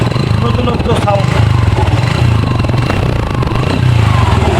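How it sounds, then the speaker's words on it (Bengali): A Suzuki Gixxer motorcycle with twin disc brakes idles close by, a loud, steady, even engine rumble throughout with someone talking over it. "বাইকটির সাউন্ড কোয়ালিটি যদি আমি আপনাদেরকে শোনাই তাহলে হয়তো বুঝতে পারবেন।"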